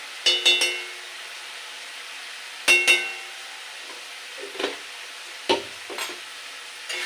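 Spice paste and vegetables fry in a pan for a fish curry with bottle gourd greens, a faint sizzle broken by several sharp clinks and scrapes of a spoon against the pan.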